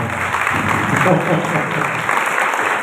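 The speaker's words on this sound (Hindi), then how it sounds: "तालियां बजाइए भाई के लिए" Congregation at a church prayer service claps in a dense, loud, steady wash of applause that runs for the whole few seconds.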